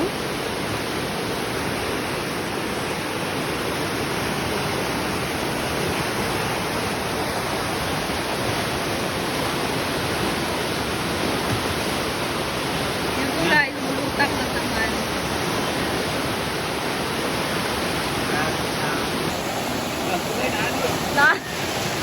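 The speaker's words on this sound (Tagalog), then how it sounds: "Ang lakas talaga ng tubig." Rushing floodwater pours beneath a bamboo bridge, a loud, steady broadband roar like surf that continues throughout with no pauses, with faint movement noises near the end.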